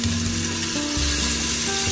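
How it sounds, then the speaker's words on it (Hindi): Mutton pieces fry in a pan for a shahi mutton dish, a steady dense sizzle that fills the kitchen at moderate level with no one speaking. "तो हमने मटन भूनने के लिए रखा था"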